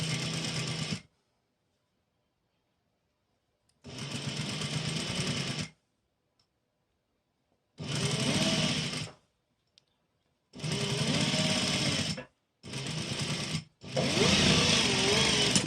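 A sewing machine stitching boot piping onto a garment neckline runs in five bursts of steady whirring, each a second or two long, separated by silent pauses, close and loud with no speech.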